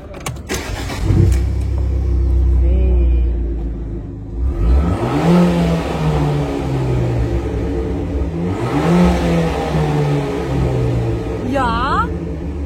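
An Abarth 695 Competizione starts up and revs, a loud, close engine that rises in several swelling bursts before settling to idle, with a voice briefly heard near the end.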